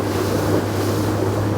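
Loud, steady drone of a 2023 Boston Whaler 250 Dauntless outboard motorboat running at speed, about 3,800 RPM, with wind buffeting and water rushing alongside.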